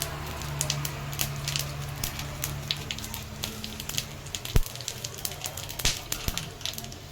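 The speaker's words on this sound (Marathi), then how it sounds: "आणि याच्यामध्ये आपण थोडंसं तेल टाकणार आहोत मसाला भाजण्यासाठी, गरम मसाला. आणि हे जिरे," Garam masala and cumin seeds roast in a little oil on a griddle over a gas stove, giving a soft, continuous sizzle with scattered crackles and pops.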